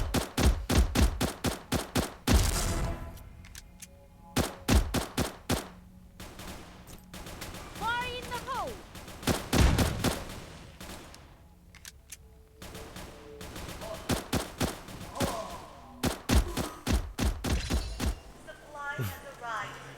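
Rapid gunfire bursts in the mobile shooter game Xshot, loud close volleys and single shots with brief gaps and ringing effects, under occasional talk.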